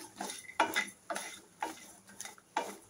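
Sesame seeds dry-roast in a pan for goda masala, marked by about six distinct scraping, clinking strokes of a spoon against metal, close but fairly quiet, with no sizzle of oil and no talking.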